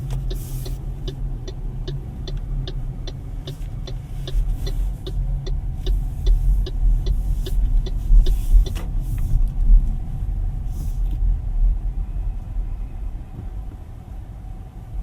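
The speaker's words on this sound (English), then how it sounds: "The power is just instant because this is a full electric vehicle" A 2024 MG4 EV Standard base model drives in sport mode, steady low road and motor rumble from inside the cabin with a rhythmic ticking of an indicator early on, no talk.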